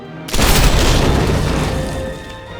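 A single loud, close boom from a Medal of Honor Airborne battle bursts out suddenly and then rumbles down slowly over about two seconds, with no other shots around it.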